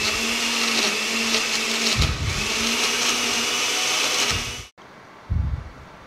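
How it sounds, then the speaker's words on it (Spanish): A kitchen blender crushes ice with a loud, steady whir for about four and a half seconds, stops abruptly, then a short burst of motor noise follows after a brief pause. "Y vamos a licuar."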